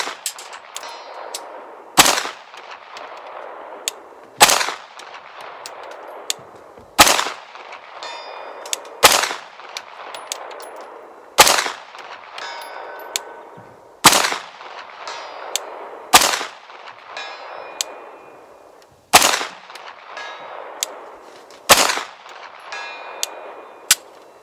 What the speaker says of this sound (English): Let's just see if we can bang on that steel over there at 200 on the other side of the dam